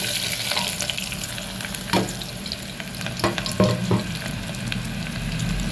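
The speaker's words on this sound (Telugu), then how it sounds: "నూనె కాగిందండి, ఉల్లిగడ్డలు వేస్తున్నా" Two onions go into heated oil and fry with a steady, dense sizzle, punctuated by a few sharp stirring scrapes and clinks, with no voices over the cooking.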